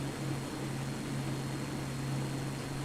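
Propeller warbird in a flight simulator taking off in Tasmania, a steady droning engine hum with a constant low tone over a hiss of noise, unbroken throughout.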